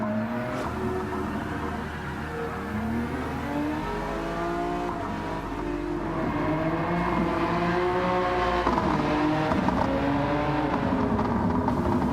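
A virtual race car drifting in Gran Turismo 7, its engine held at high revs with steady, sustained whine and shifting pitch as the throttle is fed in and modulated, continuous and close with no talking.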